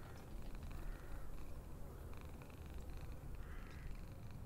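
A cat purrs in a Russian horror video game, a soft, steady low rumble running continuously at close range with faint hiss above it.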